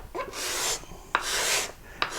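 An untuned steel card scraper is pushed across a wooden board in three rough, raspy strokes, each a dry scraping rush with brief pauses between, close and clear.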